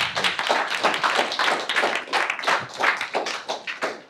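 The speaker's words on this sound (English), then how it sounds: "another round of applause for Leeren" Audience applause for speaker Leeren at the close of a Vim tutorial talk on editing, navigation and file management: a mid-sized room of hands clapping steadily and fairly close, with individual claps clearly audible for about four seconds and no talk over it.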